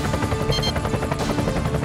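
Helicopter rotor thumping in the Time Crisis 4 arcade shooter, a steady loud beating chop filling the short stretch with no talk.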